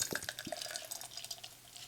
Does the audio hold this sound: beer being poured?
yes